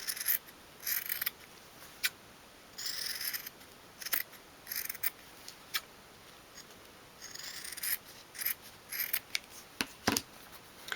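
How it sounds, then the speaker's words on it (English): Scissors snip along the sides of stitched fabric for a dollhouse cushion, a string of quiet, close, crisp cuts coming in short irregular bursts. "just trim off the fabric at the sides"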